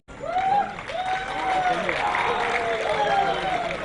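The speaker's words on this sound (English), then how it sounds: "So I request everyone to please extend a huge round of applause" A crowd at a tech global summit opened by the Andhra Pradesh chief minister applauds in a steady, continuous wash, with an amplified voice speaking over it throughout.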